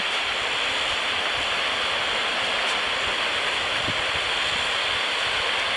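Constant broadband wash of sea water at low tide as the tide goes out on the shore of Bonito Island, Batangas, a steady rushing hiss of surf with no talking.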